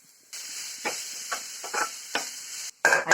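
Onions and salt fry in a pan for a microgreen stir fry, with a steady sizzle broken by several scraping stirs. The sound is close, and a louder burst comes at the end.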